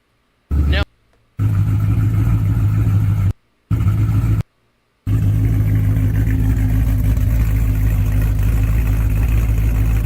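A modified car engine idles with a choppy, lopey cam rhythm and is occasionally revved. The loud, close engine sound is broken by several abrupt cuts.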